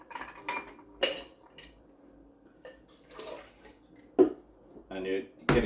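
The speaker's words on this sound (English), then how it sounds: "Then to your tin, the other tin, add some ice," Ice cubes are dropped into a metal cocktail shaker tin, about half a dozen of them, giving a few bright clinks and rattles spaced apart. Someone talks throughout.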